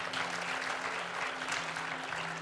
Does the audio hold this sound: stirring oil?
no